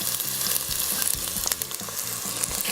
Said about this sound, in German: Als erstes Zwiebeln und Knoblauch anbraten.